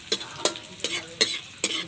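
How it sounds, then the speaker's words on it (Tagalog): Rat adobo ingredients sautéing in a pan, with five evenly spaced scrapes of stirring over a soft sizzle, close and fairly quiet, no voices. "Ito po, nagigisa na po ako na."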